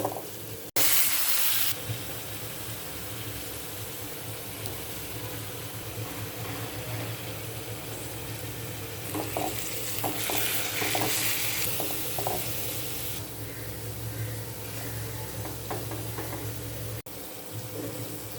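Greens being fried with dried chilies in a pan, a steady sizzle running throughout with brief louder bursts of stirring, close and alone with no talk.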